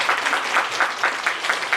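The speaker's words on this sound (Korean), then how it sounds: "박수가 항상 한 템포가 느린데" An audience at a book concert claps in a loose, rhythmic patter of many hands, steady and moderately loud throughout, with no voices over it.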